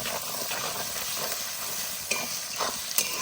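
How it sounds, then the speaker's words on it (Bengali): Ginger, garlic and spice paste frying in hot oil over previously fried onions for a desi chicken curry, giving a steady close sizzle with occasional stirring scrapes. "পেঁয়াজ সুন্দর করে ভেজে নিয়েছি, এবারে আদা বাটা মশলাগুলো সব দিয়ে দেবো।"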